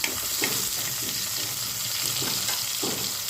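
Tomatoes and other chutney ingredients fry in oil, giving a constant hissing sizzle with soft, regular stirring scrapes and no talking.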